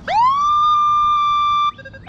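A Nokta Makro Legend metal detector gives a loud, clear electronic tone that sweeps up quickly and then holds steady for over a second before cutting off abruptly, heard alone.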